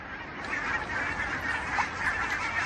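Waterbirds gather on the small open patch of a partly frozen lake, a dense chorus of honking geese and ducks calling continuously, loud and overlapping.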